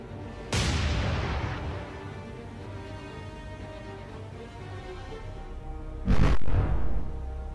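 Battleship USS North Carolina firing its gun turrets in a naval combat game, two heavy booming blasts several seconds apart, each with a long rumbling tail, no talk.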